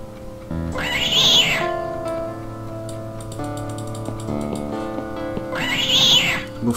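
Two long meows from a cat in a video game, one near the start and one near the end, over a steady ticking clock and soft game music.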